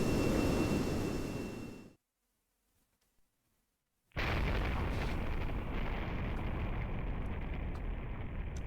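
Huge explosion in IORC: Impact Orbital Rescue Crew, a loud rumbling blast that cuts off into near silence for two seconds, then a massive sustained roar returns and holds steadily to the end.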